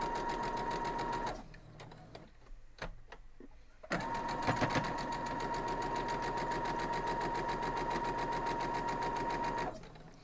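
A sewing machine stitches small quilt block pieces for a 9-inch Air Castle block, its steady whirring drone running close and loud for several seconds, pausing briefly, then resuming in one long continuous run before stopping.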